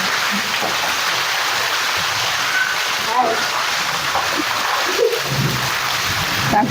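Heavy rain falls in Gujarat as a constant dense hiss that fills the whole clip, loud and close, with a few faint scattered knocks and no talking.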